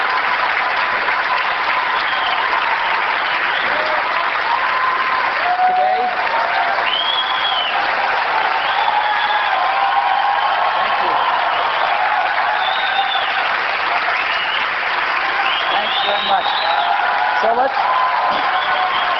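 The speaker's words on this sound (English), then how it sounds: "It's a lot of applause when you guys do all the work." Steady, dense audience applause fills a large room at a 1999 event, continuous clapping with occasional faint cheers, close and loud throughout.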